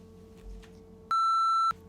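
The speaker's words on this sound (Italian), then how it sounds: "Questa è la mia sveglia che mi dice di pubblicare un video su YouTube" An alarm clock gives one sustained electronic beep, loud and steady for about half a second, sounding alone after a short stretch of quiet room tone.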